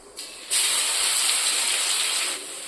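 Crushed cumin, garlic and black pepper hit hot oil for a dried fish curry, bursting into a loud, steady close sizzle after a brief first hiss, then easing slightly near the end, with no talk.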